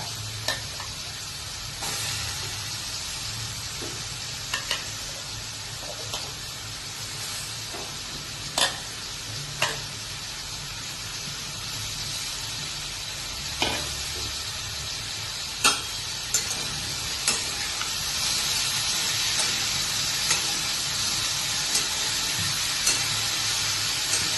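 Sweet potato pieces for a Mahashivratri sweet potato shira sautéed in a pan make a steady, close sizzling hiss, punctuated by sporadic sharp taps and scrapes of a stirring spoon, with no voices.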